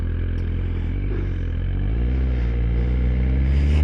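A 2024 Suzuki GSX-R1000R, a 202-horsepower sportbike with fly-by-wire throttle, growls at speed with a deep droning engine note and layered harmonics that climb slowly, loud and continuous beneath wind rush.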